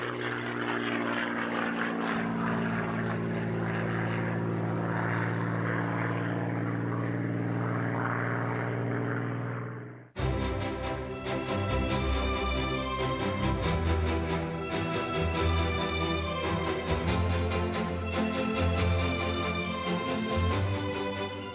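Vickers Wellington bomber propeller engines drone in a steady, loud roar. Partway through, the sound cuts sharply to a denser, harmonic engine tone that continues evenly to the end.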